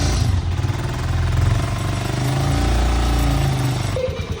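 A Honda TMX motorcycle engine idles steadily while warming up, at a rough, throbbing low rumble, loud and close, with no other sounds.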